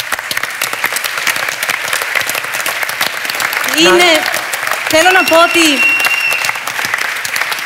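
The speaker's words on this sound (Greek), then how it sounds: "ένα θερμό χειροκρότημα για όλους εσάς" Audience applause at a Greek charity event, sustained clapping from a crowd with someone speaking over it near the middle.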